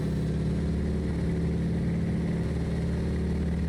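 A rough, continuous engine roar fills the cockpit of a T-6 Texan in X-Plane 12, its overstressed powerplant knocking beneath a close, loud drone with a faintly uneven low throb and no voices.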